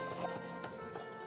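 Horses walk slowly through a forest, giving a few soft, spaced hoof clops over a muffled background.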